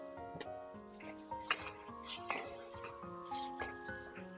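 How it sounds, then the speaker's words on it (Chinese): Braised pork trotters with garlic cloves, chicken bouillon, salt, oyster sauce and soy sauce being stirred in a pan, with soft scraping and clinking and a light sizzle running beneath steady background music. "给它翻炒均匀，把调料炒至化开"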